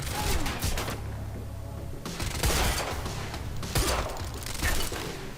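Gunfire in the action video game Quantum Break, repeated bursts of shots and impacts over a busy, loud game soundscape with rumbling low tones.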